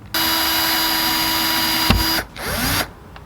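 A power drill runs steadily for about two seconds, driving a screw into a van panel with a socket used as a depth stop. The motor whine cuts off abruptly when the stop is reached, followed by a brief second whir.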